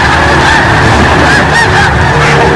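Snow geese honking loudly and continuously as an eagle hunts them in the air, a dense overlapping chorus of harsh calls close by.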